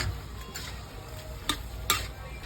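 Ground pork and bitter gourd sizzle while being stirred in a hot pan, steady frying hiss with a couple of sharp clinks of the spatula against the metal, close and moderately quiet.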